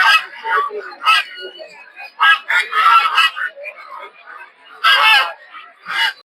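Native ducks and drake ducks crowd a busy poultry, duck and quail market in Putia, Narsingdi, giving loud bursts of honking quacks that rise and fall in clusters over steady market chatter and voices.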